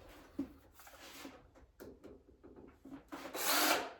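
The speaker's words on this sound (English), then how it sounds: "So let's drill this hole." Power drill boring a hole in 516-70 steel plate, with intermittent bursts of the motor whining and the bit grinding, ending in a louder sustained cutting burst.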